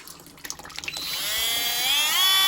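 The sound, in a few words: Hyper Tough rotary tool drilling hard stone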